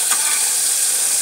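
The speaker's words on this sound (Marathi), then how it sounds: "या ठिकाणी गोडी डाळीसाठी टोमॅटो, लसूण आणि मिरचीची फोडणी दिलेली आहे" A tempering of tomato, garlic and chilli for dal sizzles loudly and steadily in hot oil, a dense continuous frying hiss with no voices.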